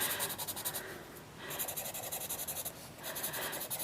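A colorless blender pencil rubs over Prismacolor colored-pencil strokes on paper, giving close, soft scratchy strokes in a steady back-and-forth rhythm with one brief pause, quiet and without speech.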